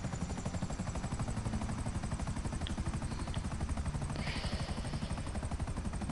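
A Mi-24 Hind attack helicopter in GTA V, its rotor thudding in a steady, rapid, loud pulse with constant engine whine throughout, close and continuous, with no talk over it.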